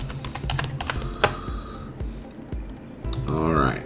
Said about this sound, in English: I'm just going to click and then just type.